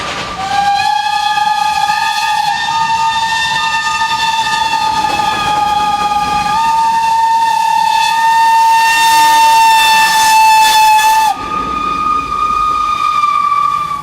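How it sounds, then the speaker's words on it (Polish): Steam locomotives roll past at the Wolsztyn steam locomotive parade, sounding a loud, sustained steam whistle that holds for several seconds, breaks off and then resumes over the chuffing and rumble of the trains. "kolejne parowozy pojawiają się na horyzoncie."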